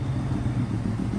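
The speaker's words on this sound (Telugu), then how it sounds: "అప్పుడే వెనకాల బైక్ వస్తున్నట్టుగా సౌండ్ వినిపించింది" Low steady engine rumble of a motorbike, continuous and fairly loud throughout with no voices, set in a night-time scene near a village cremation ground.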